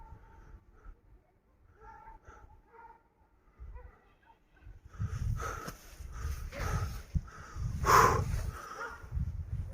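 Kangal shepherd dogs chase a wolf near a flock of sheep on a hillside. After a quieter start with faint sounds, a burst of loud, excited barking and yelping builds from midway through the clip.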